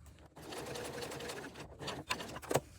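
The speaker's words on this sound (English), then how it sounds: "Back stitching again at the end." A sewing machine back stitches across the end of a vinyl strap with a short, close burst of quick needle clatter, faint and brief, ending with a couple of small clicks.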